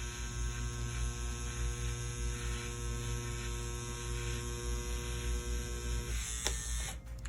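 A tattoo machine pulls lines with a 5-round liner needle, a steady electric buzz with a low hum running evenly throughout, close and moderately loud, alone without talk.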